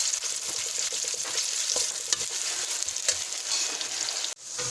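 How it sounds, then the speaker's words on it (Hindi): Sliced onions fry in a pan as curry base, a steady close sizzle with occasional stirring scrapes and clicks, ending in a brief drop-out. "जैसे कि आप देख सकते हैं हमारी हल्की हल्की प्याज ब्राउन हो चुकी है"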